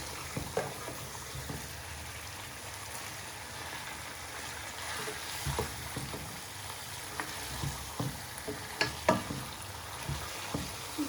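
Fish pieces frying in hot masala for a fish curry, a steady close sizzle with scraping stir strokes and small clatters recurring throughout, no talk.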